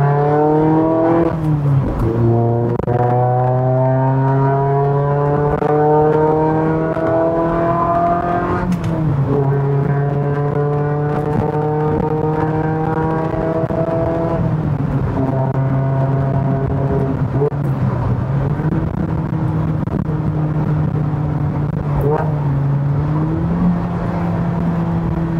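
A Mazda 1600 race car engine revving loudly and close, pitch climbing and dropping through several rising runs over about twenty-five seconds, with no talking.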